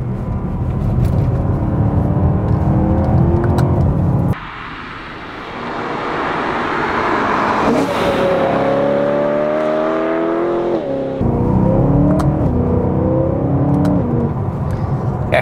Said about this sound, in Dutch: Terugschakelen voor de bocht. Prop, lekkere vette stoot tussengas.